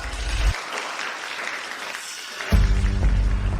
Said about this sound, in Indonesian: mari kita berikan tepuk tangan yang paling meriah sambut tuan rumah pesta malam ini